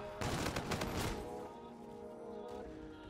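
Laser guns fire in Call of Duty Infinite Warfare, a dense burst of rapid shots for about a second, then a fading tonal hum and a faint later shot.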